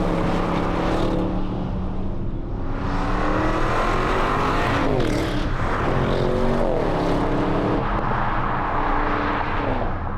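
Audi RS7 Performance with its V8 engine in S dynamic mode, a loud, continuous, close-up roar that climbs through the revs, drops briefly as it shifts gears and builds again, with no speech over it.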